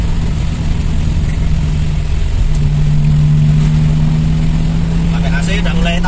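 A Toyota Kijang's engine hums loud and steady from inside the cabin while driving in fourth gear with the air conditioning on, rising slightly in pitch as it pulls, with someone talking over it.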